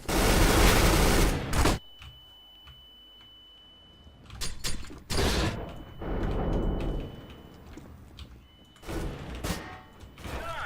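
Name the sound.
grenade being thrown in Counter-Strike: Global Offensive video game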